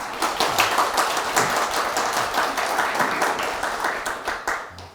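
A church congregation applauds a visiting speaker during a worship gathering, steady dense clapping from many hands that holds at an even level and fades slightly at the end, with no talking over it.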